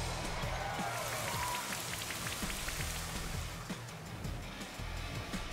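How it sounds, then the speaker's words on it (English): Rain from the Rain Dance move in the video game Pokemon Sword & Shield falls as a steady, dense hiss of pattering drops, moderately loud and continuous, with no talk over it. "So he's trying to use Rain Dance so he can use thunder."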